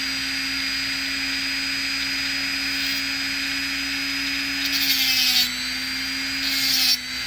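A Dremel rotary tool fitted with a mineral wheel cuts letters into amethyst rock at low speed, a steady high whine with brief gritty grinding bursts as the wheel bites the stone.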